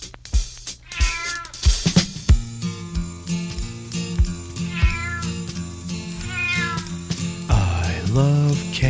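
Meowing cat sounds repeat throughout a playful family song, with bright, wavering meows sitting over a bouncy instrumental backing.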